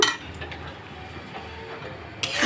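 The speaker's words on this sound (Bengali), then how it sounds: "এটা সুন্দর করে আমি নাড়ব" A spoon stirs green chili pickle in a pot, giving soft scraping and light clinks that run steadily, fairly close, with no voices.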